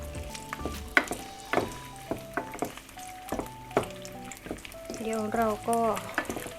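Steady sizzling of chicken sausage frying in a hot pan for stir-fried yellow noodles, with clanks of a utensil stirring and a brief spoken phrase over it.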